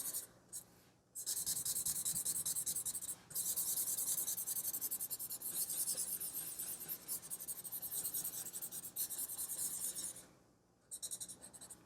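Graphite pencil blending shading on paper while drawing eyes, a close, soft, continuous scratchy rubbing that runs almost nonstop, with brief pauses near the start, after a few seconds and near the end.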